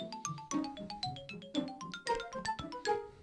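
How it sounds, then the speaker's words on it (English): Original startup sound of the Nintendo GameCube console: a quick, bright chiming melody of plucky tones over soft low notes, heard alone with no talking. "Normally, the original startup sound for this classic Nintendo video game console would sound like this."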